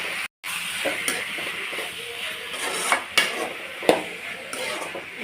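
Ingredients for a fish curry being sautéed in a pan, with a soft sizzle and intermittent scraping and clinking stirring strokes nearby, a few sharper knocks of the utensil against the metal, and no speech.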